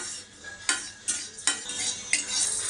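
Chana dal roasts in a pan and is stirred with a spoon, giving a soft dry rattle broken by four sharp scraping strokes at a loose, uneven rhythm.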